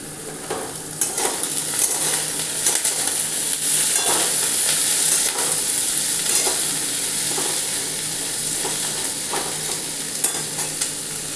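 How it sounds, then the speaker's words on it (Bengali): Pointed gourd (potol) fries in hot oil in a pan until browned, giving a continuous close sizzle broken by regular spatula stirring scrapes, steady and fairly loud with no voices. "আগে ভালো করে লাল করে পটলগুলো ভাজবো।"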